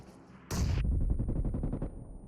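A grenade blast in PUBG Mobile erupts as a sudden loud burst, then a dense rumbling roll of crackling booms pulses rapidly for well over a second before fading.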